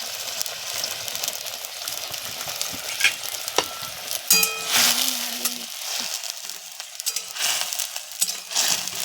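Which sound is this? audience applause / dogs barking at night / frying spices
frying spices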